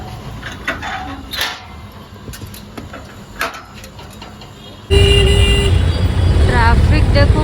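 Busy city road traffic on the way to a hospital, with repeated car horns honking over a steady rumble of engines; the traffic surges suddenly louder and closer partway through, with faint voices in the mix.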